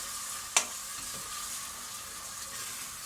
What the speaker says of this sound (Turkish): Sonra kavrayayım.